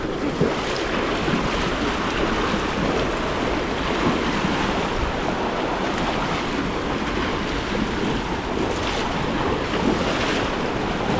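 Strong, fast river current rushing broadly and steadily, loud and close throughout with wind buffeting the microphone and no talk.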